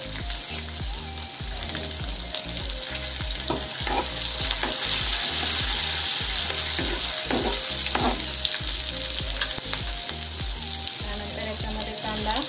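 Ingredients sizzle steadily in a pan while browning for Maharashtrian pithla, with soft stirring clinks and scrapes over the constant frying hiss, close up and without speech.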